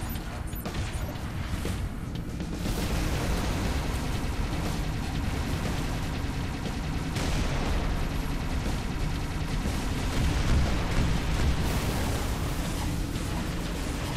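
Gunfire from the game Halo: Reach, a dense stretch of rapid weapon fire and blasts in combat, loud and continuous with little letup.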